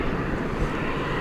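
Steady, broad engine roar from an airplane at DFW Airport, heard outdoors as a continuous loud wash of jet noise with no talking.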